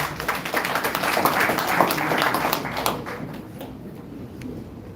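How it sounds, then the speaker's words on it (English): An audience claps together in applause at a motivational talk, a dense wash of hand claps that swells, then gradually thins and fades toward the end. "You deserve a big round of applause for that."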